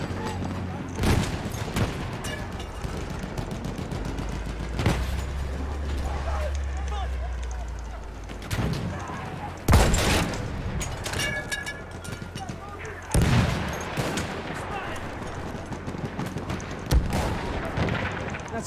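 A Battlefield 1 field gun fires repeatedly amid a chaotic battle, with heavy booming shots every few seconds over distant gunfire, rumbling explosions and occasional voices.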